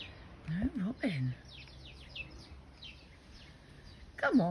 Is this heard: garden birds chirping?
yes